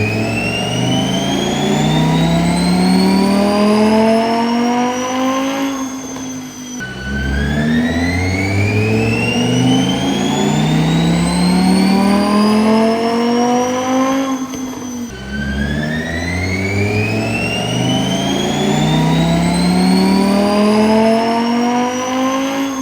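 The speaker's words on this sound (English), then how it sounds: "we're at temperature, we're ready to run it, let's go" A 2023 Audi R8 on a dyno runs three long full-throttle pulls, each engine note rising steadily in pitch to a loud high-rpm wail before dropping off, with a brief dip between runs.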